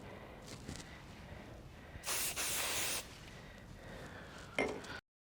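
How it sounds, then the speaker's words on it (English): Hairspray sprayed onto a finished holiday hairstyle, a steady one-second hissing burst standing out clearly from a quiet room, followed by a brief shorter spritz near the end. "So I'm going to secure this with hairspray."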